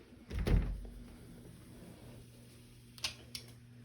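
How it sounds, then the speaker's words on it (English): An apartment kitchen door with a latch gives one solid thump as it swings shut, followed by two short, sharp metallic clicks of the latch, all quiet against a faint steady hum. "which has its own door and latch"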